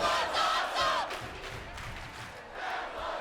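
A large wrestling arena crowd at a TNA event roars and cheers steadily, with shouts and whistles rising from the sustained, distant-sounding din.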